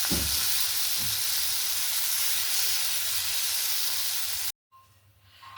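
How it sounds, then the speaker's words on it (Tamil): Banana waffle batter poured onto a hot pan sets off a loud, dense sizzling hiss that holds steady, then cuts out abruptly, leaving a faint, softer background with no voices. "இப்போ தோசை ஊற்றிடலாம்"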